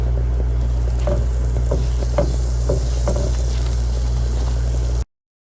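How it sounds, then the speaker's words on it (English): Three tablespoons of butter sizzle in a pan as the base for a sour cream green chili enchilada sauce, giving a loud, steady frying hiss with light pops and stirring scrapes throughout, then a sudden cut to silence. "In my pan, I have 3 tablespoons of butter."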